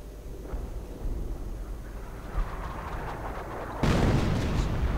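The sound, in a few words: howitzer barrage in a video game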